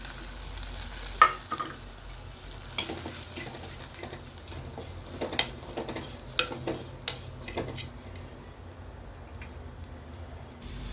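Chili powder, turmeric, Kashmiri chili powder and salt sizzle in a pan for a sardine chili curry, a soft continuous fry broken by scattered spoon scrapes and clinks as the mixture is stirred.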